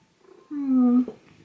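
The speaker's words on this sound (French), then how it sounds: "Ah, regardez, il y a mon chat." Billy the cat gives a short, low, droning purr-like sound lasting about half a second, close to the microphone. It ends abruptly, with quiet room sound before and after.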